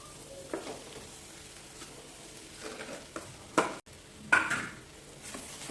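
Mashed potatoes with turmeric and coriander are stirred in a pan, soft sizzling under occasional scraping strokes and a couple of louder spoon knocks, no talking.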